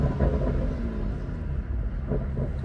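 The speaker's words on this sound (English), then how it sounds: "let's hopefully hear some more of the intake noise. First test, first gear." A BMW F30 with the N55 engine and a Burger Motorsports performance intake pulls away in first gear, a steady low engine and intake rumble heard from inside the car with no talking.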